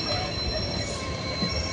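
A train passes nearby with steady, loud rumbling and sharp, high, sustained wheel squeal on the rails, and no voices over it.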